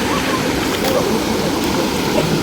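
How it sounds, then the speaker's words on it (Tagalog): Water from a mountain spring flows steadily in a continuous broadband rush, near and fairly loud, with no other sound standing out. "Bukal, hindi ba ito bukal ha? Galing bundok."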